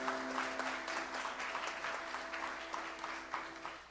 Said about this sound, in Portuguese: Podemos aplaudir o Senhor?